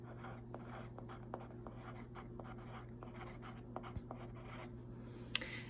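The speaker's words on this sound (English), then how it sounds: "So I am going to draw a line from the rectangular prism to the rectangle" A pen draws a line on paper as part of a geometry lesson, making faint, soft scratching strokes that repeat at a light, uneven pace against a quiet background.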